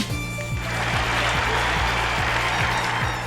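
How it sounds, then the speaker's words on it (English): An arena crowd in the video game Bug Fables cheers in a continuous wash of noise, with a game music loop of repeating falling tones running underneath. "Let's get the crowd wild and cheering."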